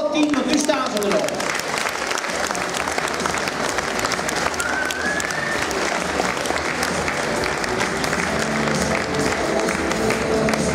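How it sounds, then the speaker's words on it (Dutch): Spectators at a dog show applaud the ten finalists in the ring, loud, sustained crowd clapping with voices and cheering mixed in, steady from start to finish. "Het applaus voor alle tien, want nu staan ze er nog."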